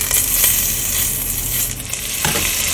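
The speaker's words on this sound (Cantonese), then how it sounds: "煎到個黃啦，跟住就反轉佢咯。" Pork belly frying in a pan for red-braised pork, a steady close sizzle with faint stirring and crackle running throughout.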